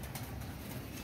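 Pigeons coo faintly from a rooftop loft, with soft low calls sitting under a steady outdoor background hiss.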